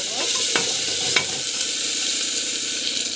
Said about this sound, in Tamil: பூண்டு போட்டுட்டு நல்லா வந்து வதக்கிட்டு.